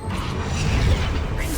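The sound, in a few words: Wingardium Leviosa levitation spell in Hogwarts Legacy video game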